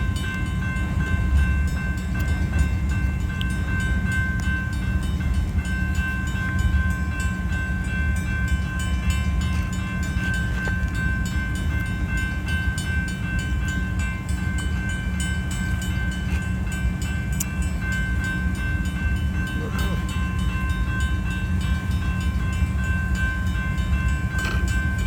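Union Pacific 8860 slowly leads an outbound manifest freight train past, a sustained loud rumble with a steady locomotive engine drone and faint wheel noise throughout, no talking.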